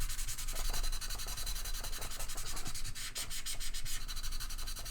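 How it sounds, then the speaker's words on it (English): Rhythmic, scratchy back-and-forth sanding strokes rasp steadily at close range on a plastic scale-model part for several seconds, with no voices. "you just go through the grits as per normal with sanding"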